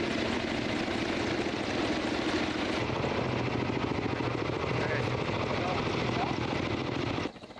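Helicopter in a naval rescue exercise, its rotor thumping loud and close in a dense continuous roar with a voice speaking over it, before the noise drops away abruptly at the end.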